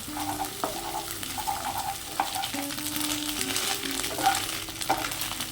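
Three beaten eggs sizzling in a hot pan as a scramble for egg tadka while a utensil scrapes and stirs, with occasional sharp clinks against the metal.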